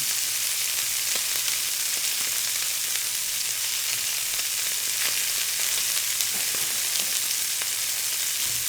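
Meat frying in a pan with sweet tea, giving a loud, steady, close sizzle with faint crackles throughout and no talking.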